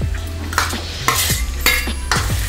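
Mashed chickpeas being stirred into chole masala in a pan, with a spoon scraping and clinking against the metal in several short strokes over a faint sizzle.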